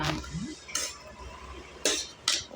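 Veg biryani being turned up and down in a pot, giving a few sharp metallic clinks and scrapes of a spoon against the vessel at irregular moments over a quiet background.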